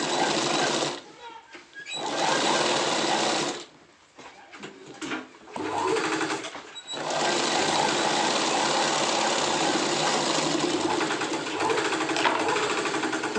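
A sewing machine stitches a pant in steady, fast mechanical bursts, stopping briefly twice early on before running continuously; a voice speaks quietly over the stitching.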